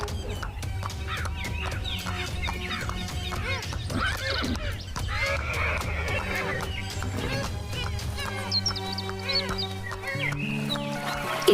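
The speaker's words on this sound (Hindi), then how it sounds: "राजा अपने घोड़े पर सवार होता है और जादुई तालाब की तरफ रवाना हो जाता है।" Near the start a horse neighs loudly as a king mounts and rides off, with hooves clip-clopping and animal calls over music.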